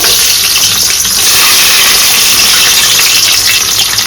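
Small shallots sauté in hot oil with fenugreek for a dried fish curry, producing a loud, dense, unbroken sizzling hiss heard up close, with no voices.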